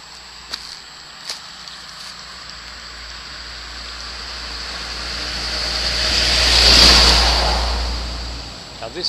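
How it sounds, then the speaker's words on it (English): A big lorry drives past on a country road beside Fifehead Magdalen Wood in Dorset, its rumble swelling from far off to a loud close peak, then fading as it moves away. "Oh, here comes a big lorry."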